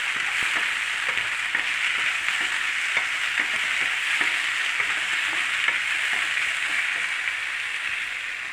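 Tomatoes fry in a pan for a potato and peas kurma, giving a constant, bright sizzle with scattered crackles and occasional stirring scrapes, close and steady throughout.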